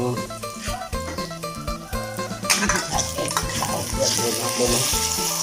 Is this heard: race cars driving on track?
no